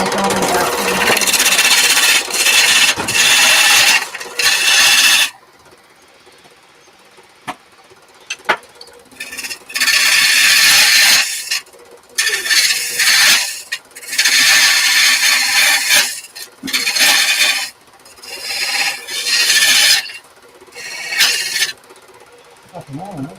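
Sandpaper pressed against spinning wood on a lathe gives loud bursts of broadband hiss and rasp, stopping and starting in irregular stretches with short quiet gaps between.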